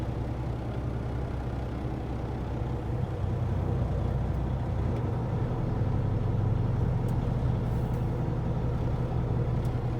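A semi truck rolls slowly forward as the clutch is let out, giving a steady low diesel rumble and drone that stays close and constant throughout, with a faint click or two and no talking.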